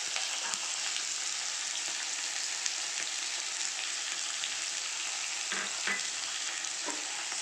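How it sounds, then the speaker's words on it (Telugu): Ivy gourd (dondakaya) pieces fry with turmeric in a pan, giving a steady close broadband sizzle with occasional stir scrapes, heard alone with no voices. "ఈ దొండకాయలు బాగా ఫ్రై అవ్వాలండి."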